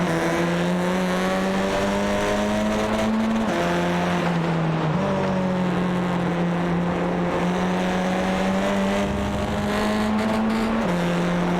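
Onboard engine of a WTCR touring race car at a Netherlands round, a loud steady drone that rises with revs and drops sharply at gear changes through the corners, running continuously and alone.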